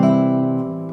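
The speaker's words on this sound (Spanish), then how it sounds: "Voy a tocar dominante sin séptima." A dominant chord without a seventh sounds as one sustained, held chord that slowly fades over about a second, with no speech.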